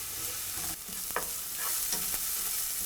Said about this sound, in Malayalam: ബാക്കിയുള്ള 1 തണ്ട് കറിവേപ്പില എന്നിവയിട്ട് നന്നായിട്ട് വഴറ്റുക